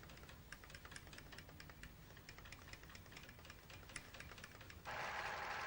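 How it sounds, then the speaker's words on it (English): A Pfaff sewing machine's needle, driven in small steps by a stepper motor through a cog, gives a quiet, fast, regular ticking and rattling. It changes near the end to a smoother, steady whir. "I think you can see the stepper motor moving the needle in this machine."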